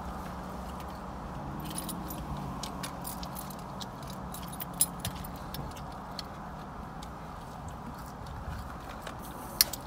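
Keys jangle in sharp, scattered metallic clinks over a steady rumbling background, with a couple of brighter jingles standing out near the end.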